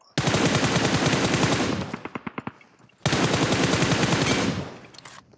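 Automatic gunfire in the mobile shooter game PUBG Mobile: two long, loud, rapid bursts, each trailing off into a few slower separate shots, with no talking.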